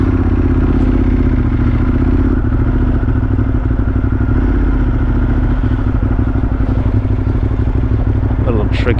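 Ducati Monster motorcycle ridden across town onto the West Side Highway, a steady close engine drone with wind rush and occasional clattering bumps throughout, a voice talking over it.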